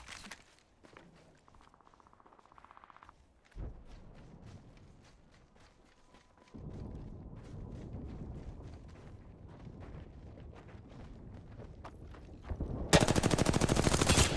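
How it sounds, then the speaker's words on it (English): Apex Legends gunfire: sharp repeated shots and bursts ring out over a quieter stretch, then build into a louder sustained exchange of fire toward the end, with no talk. "Firing. Getting shot at."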